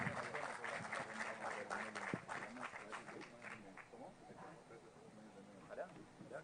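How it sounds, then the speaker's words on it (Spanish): Audience applause at a conference in Peru, a dense crowd clapping steadily for several seconds with voices murmuring underneath, tapering slightly toward the end. "Por favor, las palmas para ellos."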